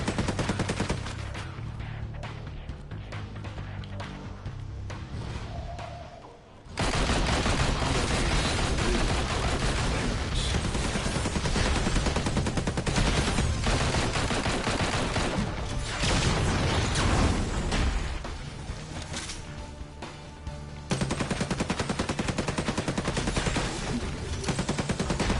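Sustained rapid gunfire and explosive impacts from the action game Marvel Heroes Omega fill the mix loudly and nearly nonstop, dropping briefly into quieter mechanical game noise before the shooting resumes.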